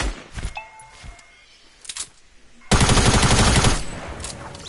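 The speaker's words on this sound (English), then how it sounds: "Charlie, stop using tactical SMGs." Tactical SMG fire in a multiplayer shooter match, a few scattered shots and impacts followed by a loud sustained automatic burst lasting about two seconds.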